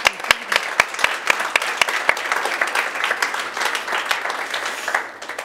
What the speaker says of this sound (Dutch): Mag ik voor beide sprekers een heel hartelijk applaus geven.